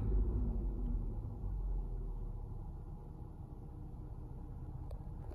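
A car engine settles back to idle after being revved to 4000 RPM, a low steady rumble that eases slightly in level and holds, heard alone with no talk.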